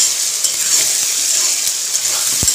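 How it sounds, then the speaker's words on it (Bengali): Onions frying in oil in a pan give a steady close sizzle while being stirred, with a light spatula scrape near the end. "বেশ কিছুক্ষণ ধরে পেঁয়াজটাকে নাড়িয়ে চাড়িয়ে ভাজছি"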